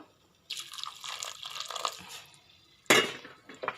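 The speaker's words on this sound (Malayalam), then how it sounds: "ഇനി നമുക്കതിലേക്ക് ആവശ്യത്തിന് കുറച്ച് വെള്ളം ഒഴിച്ചു കൊടുക്കാം." Water poured into a pressure cooker over beef roast, a steady splashing pour for about a second and a half, then a sharper, louder slosh near the end, with no talking.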